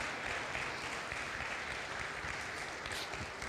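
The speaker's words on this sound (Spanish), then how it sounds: "Dale un aplauso a Cristo" A church congregation applauds during a sermon, producing a steady wash of clapping throughout that is faint and somewhat distant.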